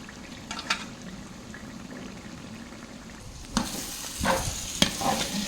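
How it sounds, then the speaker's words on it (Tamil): Semolina is stirred in ghee for kesari, giving scraping spoon strokes over a soft sizzle that grows louder and busier toward the end, with no talking. "ஸோ 150 கிராம் அளவு நெய் நான் சேர்க்குறேன்."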